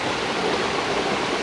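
River water flowing in Finch Hatton Gorge, Queensland, a steady close rushing wash of water over rocks, continuous and even with no voices.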